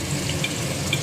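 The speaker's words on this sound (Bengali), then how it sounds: "চিমনির আওয়াজটা একটু হচ্ছে" A kitchen chimney exhaust hood runs with a steady, broad whooshing hum while potatoes and onion fritters fry below, with faint sizzling and a couple of soft splashes close by.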